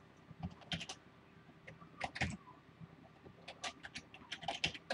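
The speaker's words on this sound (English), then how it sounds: "My keyboard's just not doing what I want it to." Computer keyboard typing comes in quick, irregular bursts of clicky keystrokes with short pauses, close and fairly quiet, and no talk.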